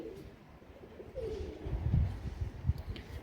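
Pigeons coo softly in their coop, low throaty calls rising and falling amid faint rustling, close but quiet.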